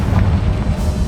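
A Confringo fire spell from the Hogwarts Legacy video game explodes in a loud, heavy boom with deep rumbling low end that fills the brief moment without any talk over it.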